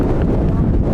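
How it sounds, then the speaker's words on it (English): Strong gusts buffet the microphone at an outdoor youth soccer match between City SC Utah and Utah Celtic, a continuous loud low rumble filling the whole second. "Oh, the wind is crazy."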